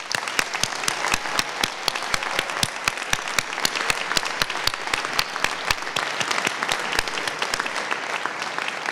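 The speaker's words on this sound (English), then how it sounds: "I'd like to offer one more round of applause for our award recipients tonight" An audience at a school senior honors night applauds award recipients, sustained clapping with many sharp individual claps standing out, steady and fairly close for the whole stretch.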